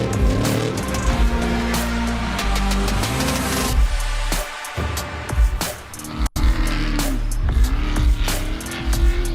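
Race cars on a rough, hilly off-road course, engines droning loud and continuous with revving pitch sweeps and tire squeal, one brief dropout midway.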